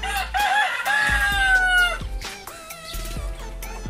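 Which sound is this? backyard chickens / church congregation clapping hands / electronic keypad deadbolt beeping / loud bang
backyard chickens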